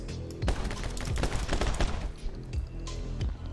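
Rapid bursts of video game gunfire from My Friend Pedro crackle almost nonstop over a driving game soundtrack, with sharp shots clustering through the middle and trailing off near the end.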